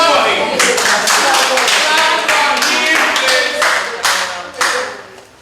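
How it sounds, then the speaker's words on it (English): Pupils in a Nigerian secondary school classroom clap together for a correct spelling, a dense burst of close, loud, fast handclaps that carries on for several seconds before thinning out and fading. "Clap for me."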